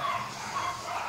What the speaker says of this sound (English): Those are my dogs. Nothing I can do about it. They bark.